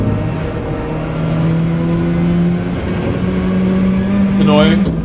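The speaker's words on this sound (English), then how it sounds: "It's a loud car." Loud racing car engine in the Gran Turismo 7 driving game, a steady sustained drone that rises in pitch near the end, with someone talking over it throughout.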